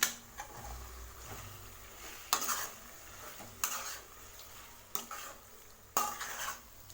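Mutton keema with masala and salt being sautéed in a pan, a low sizzle under repeated metal spoon scrapes and clanks against the pan at an irregular, spaced rhythm, close by.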